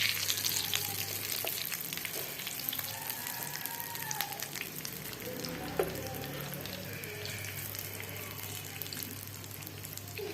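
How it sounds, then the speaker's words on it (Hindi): Chicken shami kababs fry in a pan with a steady, even sizzle and spatter that runs unbroken and close throughout, with no talking. "और दूसरी साइड भी अच्छी तरह फ्राई हो गई है"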